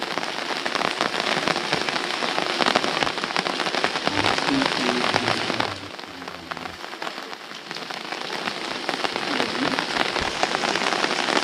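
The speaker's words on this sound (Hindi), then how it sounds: "शाम के लगभग 6 बज चुके हैं और झमाझम बारिश शुरू हो चुकी है।" Heavy evening rain pours down in a dense, continuous hiss and patter on surrounding surfaces, loud and steady, easing slightly for a moment midway before returning to full strength.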